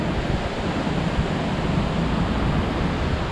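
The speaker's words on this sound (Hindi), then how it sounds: "और ये शायद सीधा सीधा जाता है पानी, और कहीं बहुत ज़ोर से फॉल होता है बहुत नीचे, तो आगे चल के शायद ये एक नेचुरल वाटरफॉल बनता होगा।" A mountain stream near Pothamedu viewpoint in Munnar, Kerala rushes steadily toward a natural waterfall, making a loud, continuous roar with no voices.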